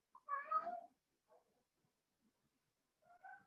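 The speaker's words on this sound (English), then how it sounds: "I apologize if you hear my cat in the background." Pet cat meowing indoors, one clear drawn-out meow up close followed by faint small mews and a second shorter meow, otherwise quiet.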